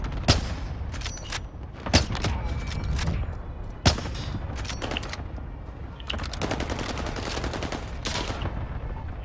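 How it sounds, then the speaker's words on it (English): Gunfire in the video game Warzone Pacific: scattered sharp shots with a few loud cracks, then rapid automatic bursts in quick succession over a steady background din. "Yeah, I see the guy shooting it."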